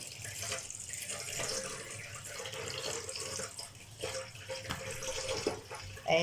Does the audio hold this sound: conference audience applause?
no